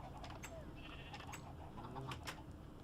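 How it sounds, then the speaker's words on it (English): Sheep bleat in the Minecraft video game: a few short, wavering bleats sounding faintly over background game noise and ambient clutter. "No, that sheep is very confused."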